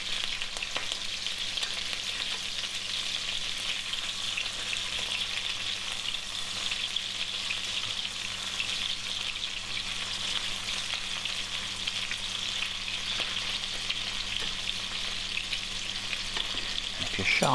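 Sausages sizzling and frying steadily in a pan for toad in the hole, a continuous close crackle with occasional turning sounds, no talking.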